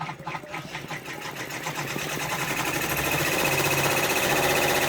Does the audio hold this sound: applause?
no